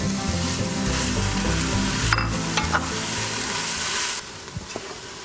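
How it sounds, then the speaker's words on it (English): Carrots, celery, onions and peppers sauté in a pan for potato and salmon soup: a dense close sizzle with scraping stirs, then quieter, thinner frying with a few light knocks. "I'm gonna keep cooking the carrots and celery and onions for another 3 to 5 minutes"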